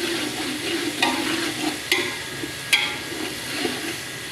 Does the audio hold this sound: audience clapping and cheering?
no